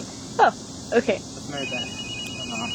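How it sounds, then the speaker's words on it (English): A mobile phone rings in the background with a thin, steady electronic tone while people talk casually nearby. "That's my phone."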